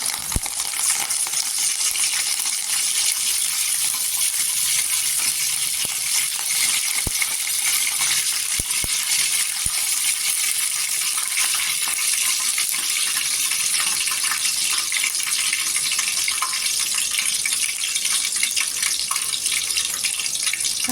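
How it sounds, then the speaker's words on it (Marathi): Water runs steadily from a tap in an unbroken rush, with a few faint clinks as curry leaves are rinsed underneath; no one speaks. "इथे करीपत्ता स्वच्छ धुतलेला आहे दोन ते तीन पाण्याने"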